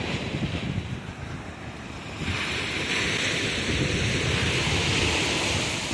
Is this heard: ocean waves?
yes